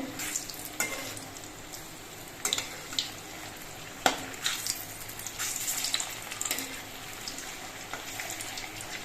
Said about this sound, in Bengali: এবার একসঙ্গে কয়েকটা কোপ্তা ভেজে নেব আমি চারটে করে কোপ্তা দিচ্ছি